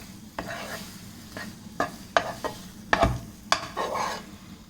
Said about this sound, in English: you have to fry this up nicely